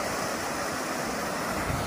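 Water from Grout Creek, a tributary near a waterfall in Big Bear, California, rushes in a steady, broadband roar that is close and constant, with no voices.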